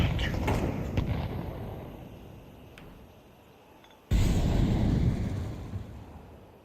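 A grenade detonates in Counter-Strike 2 with a sudden loud broadband blast about four seconds in, following quieter in-game gunfire and clatter, the boom decaying gradually afterward.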